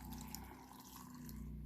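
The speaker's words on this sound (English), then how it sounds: "Spilling water everywhere." Water being poured and spilling while filling a container of tomatoes for a ferment, a faint, steady trickle with soft drips throughout, no voices.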